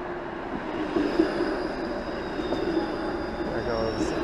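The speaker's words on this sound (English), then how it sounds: "There goes a 512 westbound St Clair streetcar that will be going all the way over to Keele." A westbound 512 St Clair streetcar rolls past on a Toronto street, a loud, near rumble of wheels on rail with a faint high squeal, steady for the whole few seconds.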